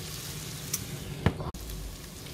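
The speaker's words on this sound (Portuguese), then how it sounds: "Vou deixar fritando aqui mais um pouquinho." Vegetables and calabresa sausage frying in a pan for a quick savory couscous, a steady close sizzle with a brief stirring scrape partway through, no talking.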